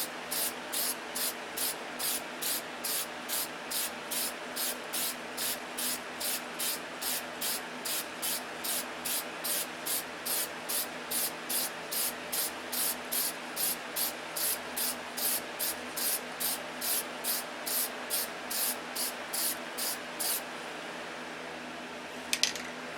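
Short, evenly spaced bursts of spray hiss steadily from a spray gun applying coats of DC during an aircraft registration-number repair. About forty regular pulses sound close and alone before the spraying stops.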